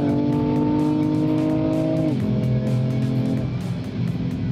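A car climbs a hill on a driving course, its engine loud and close, the revs holding and then stepping down in a gear change partway through before it keeps pulling steadily.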